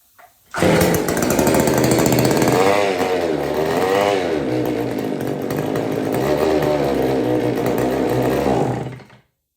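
An old Homelite 150 Automatic or McCulloch 610 chainsaw runs loud and close on partial choke, its engine snarling with uneven revs for about nine seconds before it cuts out.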